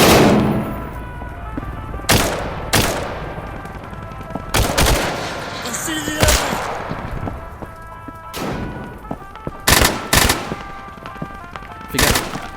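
Sharp gunshots and short bursts from the VR shooter game Tactical Assault VR, loud and close, separated by pauses, with a few heavier thumps in between.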